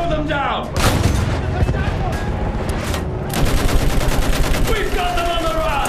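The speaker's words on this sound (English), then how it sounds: "Use that machine gun!" Rapid bursts of machine gun fire in the Battlefield 1 video game trench fighting, loud and sustained, with booms and shouting mixed under the gunfire.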